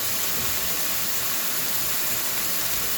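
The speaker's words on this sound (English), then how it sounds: "Y'all hear the sizzle." Steady broadband sizzling hiss of chicken frying in a skillet, continuous and fairly loud with no talking.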